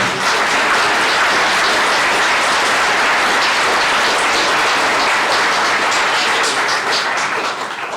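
A hall audience at a mayor's New Year address in Verlinghem bursts into loud, sustained applause, dense clapping filling the room evenly for the full stretch with no voices over it.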